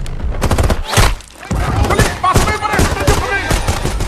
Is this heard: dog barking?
no